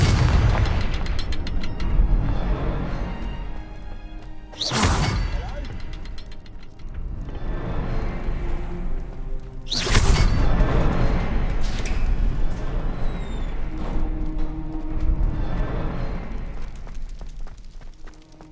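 Confringo spell blasts in Hogwarts Legacy, two heavy booming explosions about five seconds apart over a dense, loud game soundscape, with a voice casting spells.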